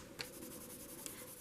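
A colored pencil scratches across paper in light, quick strokes while a chicken is filled in, the faint dry rubbing close and steady without voices.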